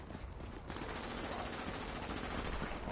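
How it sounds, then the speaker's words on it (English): A submachine gun fires a rapid, continuous burst in The Division, the rattling automatic fire steady and fairly faint under the general game soundscape. "It's a new submachine gun."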